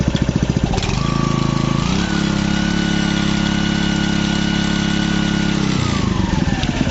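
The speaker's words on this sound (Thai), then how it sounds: "คันเร่งอยู่นี่นะฮะคันเร่งนะครับ ลองเร่งดูก่อน" Four-stroke engine on a Maruyama high-pressure pump idling, then revved up with the throttle to a steady high whine, holding for several seconds before dropping back to idle; loud and close.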